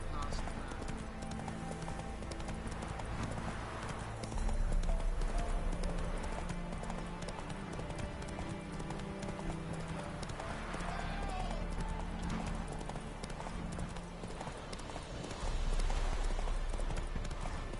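Roach the horse trots in The Witcher 3 video game, with steady rhythmic hoof clip-clops heard at modest volume. The hoofbeats run under a music score, with a voice speaking at times.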